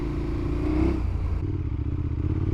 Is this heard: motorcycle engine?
yes